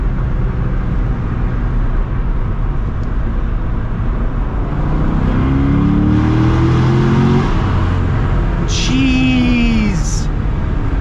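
A C6 Corvette Z06 accelerates through a tunnel, its loud, booming engine note echoing off the walls as it climbs through the revs, with a brief higher whine near the end.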